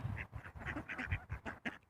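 Wild ducks quacking outdoors in a choppy run of short, nasal calls that overlap and repeat, fairly close and clear, with no voices over them.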